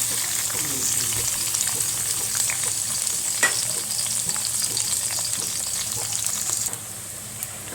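Onion, garlic and curry leaves sizzle in hot oil in a pan, a dense, steady crackle and hiss with scattered pops and occasional stirring clatter, close and fairly loud.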